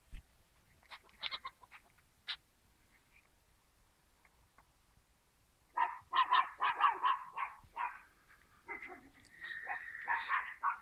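A dog barks in two bursts: a few scattered barks, a quiet pause, then a fast series of repeated barks close by that trails off into whining yelps.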